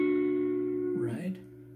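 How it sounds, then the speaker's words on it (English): A sustained guitar note from a chord shape is bent up a whole step, the pitch gliding upward near the end of a short, fairly quiet moment. "So we're going to bend this string a whole step."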